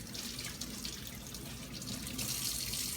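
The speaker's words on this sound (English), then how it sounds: "I'm going to apply a little bit of water to this," Cold tap water runs steadily from a faucet onto cured capocollo pork before wrapping, a continuous close hiss and splash with no pauses or voices.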